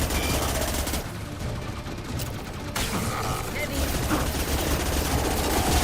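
Gunfire in the video game Mass Effect 2: rapid automatic bursts rattle over a dense, mechanical battle din, with a brief lull in the middle and speech mixed into the noise.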